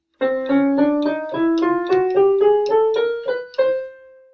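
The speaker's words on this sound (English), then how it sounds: "If I play a C chromatic scale" A C chromatic scale covering every half step within an octave rises in about a dozen quick, evenly paced notes, each clear and close, the last one held briefly before it stops.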